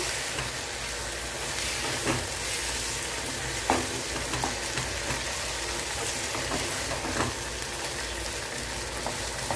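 Ash gourd with raw mango sautés in a pan, a steady soft sizzle broken by occasional scraping clicks of a spoon stirring.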